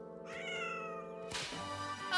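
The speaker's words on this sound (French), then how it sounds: "J'arrive pas à sauver mon chat. Il est coincé sous l'escalier." A cartoon cat stuck under the stairs meows, with a drawn-out tonal cry followed by a sharper, brighter second meow.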